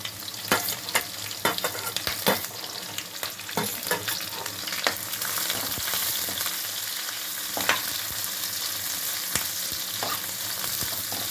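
Finely chopped onion, green chilli and crushed garlic frying in oil, a steady close sizzle with intermittent spatula stirs and taps.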